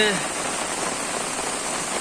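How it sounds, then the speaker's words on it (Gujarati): Heavy rain pours down steadily in Jetpur town in Rajkot district, Gujarat, a dense, continuous wash of falling water close by with no pauses. "અંદરાધાર વરસાદ જે વરસી રહ્યો છે"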